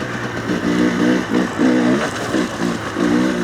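A GPX TSE 300R motorcycle accelerating in second gear, its engine droning steadily with rhythmic pulsing surges, close and moderately loud throughout.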